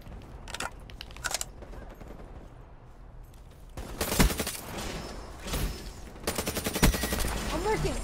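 Peacekeeper shotgun blasts in a shooter video game come in scattered heavy bursts, growing louder and denser toward the end, with little talk.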